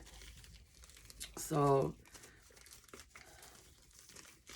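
A plastic bag holding ritual incense crinkles in a brief, loud burst of close crumpling, with a person speaking quietly before and after.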